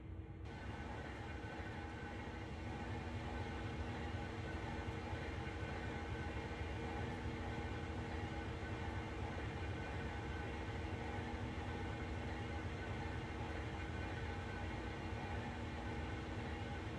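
A CSX heavy haul locomotive turning on a rotating turntable in Train Sim World 2020, giving a steady, loud mechanical rumble and hum with layered tonal drone, continuous and unbroken with no talk.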